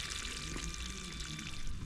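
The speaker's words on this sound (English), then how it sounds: "So let's check if water is just going to the pot there" Water pours steadily into a pot at a tilapia fish farm, a continuous broadband rush that stays even and fairly loud throughout, with no voices.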